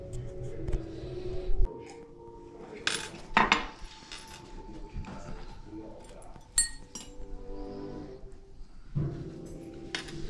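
Cooked clams tumble from a pot into a bowl, giving a string of close, bright clinks and clatters of shells against metal and dishware, spaced irregularly, with quiet background sound between.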